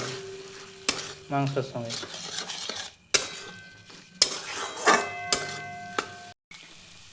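Chicken sautés with spice masala and Kashmiri chilli powder in a pan for street-style chicken Maggi, with a loud sizzle and repeated clanking, scraping stirs, while a voice briefly speaks.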